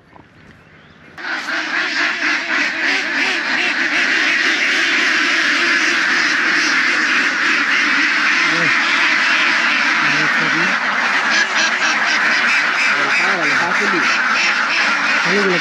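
A large flock of farm ducks kept on a wide wetland at a duck farm quacks loudly and continuously at close range after a quiet start, a dense overlapping chorus with honking calls mixed in.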